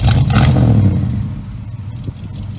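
A 1977 Ford F150 short box pickup's engine revs up loud and close, then settles back to a rough, rattling idle with some clatter.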